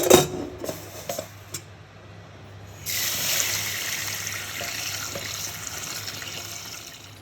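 Lentils are rinsed in water: a few clinks and knocks come first, then a tap runs in a steady, continuous stream into a sink.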